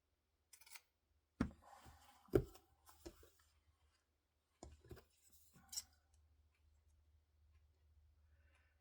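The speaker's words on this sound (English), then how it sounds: "I just cut it down the middle, and it gives you two strings of it." Scissors snipping down the middle of wide lace trim for a junk journal, several sharp close crisp cuts in short bursts separated by quiet pauses.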